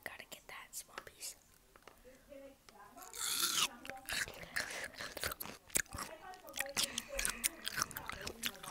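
Watermelon being bitten and chewed close to the microphone in an ASMR setting, with wet crunching bites and juicy chewing mixed with soft whispering.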